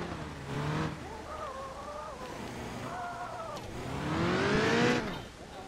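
A car engine drifting in 4th gear in Driftzone, revving and droning at shifting pitch with rising and falling whines, swelling louder toward a strained high rev before dropping off.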